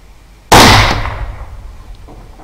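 A single sharp rifle shot fired from a shooting bench during a nighttime thermal hog hunt, a loud close crack at once followed by a decaying rumble and faint rustle.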